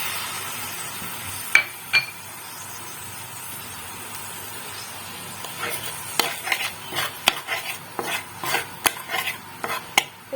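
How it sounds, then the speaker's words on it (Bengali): Onion, garlic and ginger paste stirred in hot white oil in a kadai, with soft sizzling beneath scattered sharp clinks and scrapes of a utensil against the pan, growing busier toward the end. "তেলটা গরম হয়ে গেলে আমি এই পেঁয়াজ, রসুন, আদা বাটাটা মিক্স করে দেবো।"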